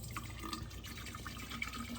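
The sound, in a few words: water being poured into ALDI camping appliance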